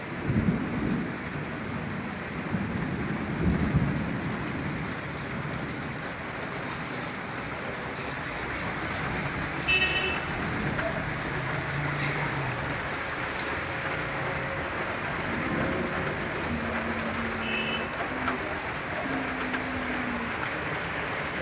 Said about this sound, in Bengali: খুব জোরে বৃষ্টি হচ্ছে অনেকক্ষণ ধরেই রাস্তার জল জমে গেছে